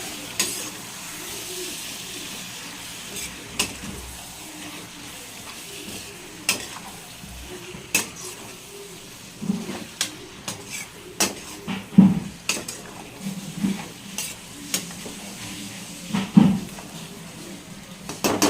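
A spoon stirring colocasia pieces coated in masala in a pan, scattered scrapes and soft clinks at an irregular pace over a faint background hiss.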